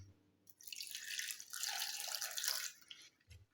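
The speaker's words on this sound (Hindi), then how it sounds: "उसके बाद इसमें ऐड कर दें थोड़ा सा पानी" Water pours into a blender jug in a home kitchen, a short steady stream that starts after a brief pause, runs for about two seconds with a bright splashing rush, then tapers off to a few drips.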